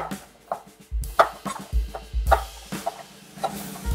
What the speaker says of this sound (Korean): 청양고추도 동글동글하게 썰어줍니다.